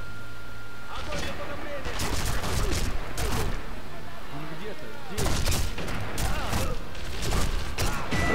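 Dense gunfire from the Sniper Elite V2 video game, with rapid bursts of shots and booms crackling in waves over a busy battle background, and someone talking over it.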